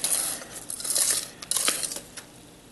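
A metal pan clatters and scrapes as it is handled and set aside in a pastry kitchen, a few short, close clinks and knocks with no voice.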